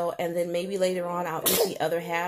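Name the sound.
sneeze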